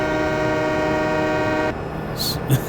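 A loud, sustained train horn in Farming Simulator 17 with steady harmonic tones holds for over a second and a half, then cuts off abruptly, leaving rumbling rail noise and a brief hiss.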